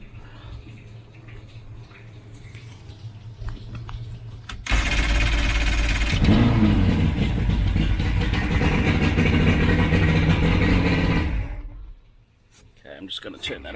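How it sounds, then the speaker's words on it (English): An Evinrude Johnson outboard motor cranks, catches and runs loudly and steadily for several seconds before cutting off, with faint talk and handling noises before and after. "you get a motor that starts."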